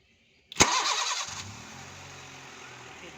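A Honda Civic, repaired after a silent no-start fault, cranks with one loud burst and catches, then settles into a steady, fairly quiet idle hum.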